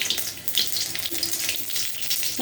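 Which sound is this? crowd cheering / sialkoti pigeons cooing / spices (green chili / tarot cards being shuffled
spices (green chili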